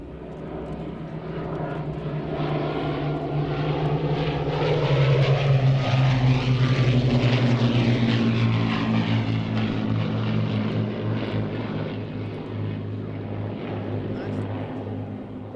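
An aircraft passes overhead at an air display, its engine roar swelling from distance to a loud peak and then easing away with a falling pitch.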